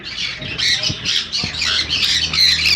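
Blue-and-yellow parrot squawking loudly and close, a run of harsh repeated calls while someone talks throughout.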